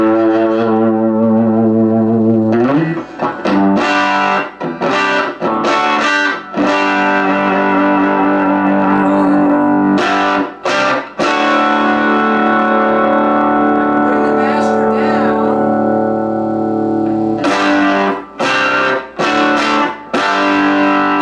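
An electric guitar played through a custom Princeton Tweed tube amp by Gemtone, "The Ruby Tube", gives a bluesy overdriven tone, with sustained notes and chords ringing out and short pauses between phrases.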